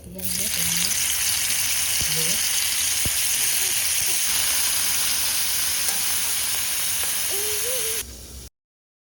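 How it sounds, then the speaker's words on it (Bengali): Paneer cubes fry in hot oil in a kadai with a steady, loud hiss of sizzling that runs evenly for several seconds, with faint background voices and a few stray clicks. "পনিরগুলো ভাজা প্রায় কমপ্লিট হয়ে গিয়েছে"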